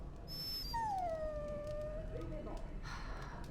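A dog in the video game Dragon Age Origins gives a long, drawn-out high whine that slides downward, followed by softer whimpers, heard alone at low level over faint background ambience.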